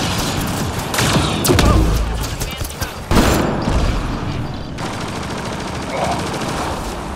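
Gunfire in Mass Effect: Andromeda: rapid shots and bursts with heavy booming impacts and mechanical clatter, loud and close, several clusters of firing spread over a few seconds with no clear talk over it.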